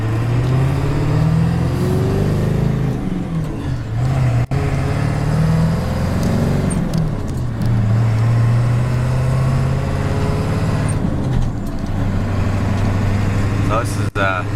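A dually pickup truck pulls onto a freeway, its engine drone steady and close with gear-shift pitch changes and road rumble, someone talking over it throughout.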